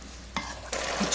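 Garlic scapes stir-fry in soy sauce in a pan, giving a close hissing sizzle with two quick stirring scrapes of a utensil.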